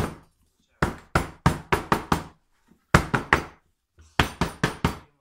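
Soap being pounded down into a mold in sharp knocking bursts, groups of three to six quick thumps separated by short pauses, close and loud with no voices.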